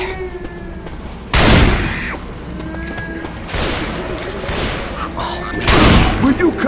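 Gunfire in Left 4 Dead 2 booms out as several loud, separate blasts spaced a few seconds apart, each with a ringing decay, amid game ambience and scattered shouted voices.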